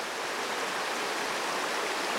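The Yuba River in Northern California flows steadily in a close, dense rushing wash of water with no voices, continuous and even throughout.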